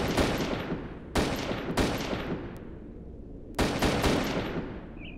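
Gunfire from a firefight with enemy soldiers in the video game Farmer's Father: Save the Innocent crackles in several loud, close bursts, at the start and again around one, two and three and a half seconds, with no talk.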